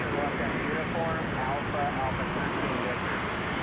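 A Delta Airlines jet arriving from Atlanta at Chicago O'Hare produces a steady, loud broadband roar that fills the whole stretch, with faint voices murmuring underneath.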